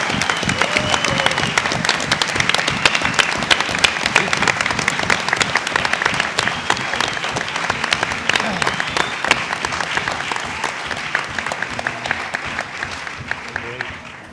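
Sustained audience applause fills a school board meeting room, dense and steady clapping from many people for about fourteen seconds, with some voices mixed in.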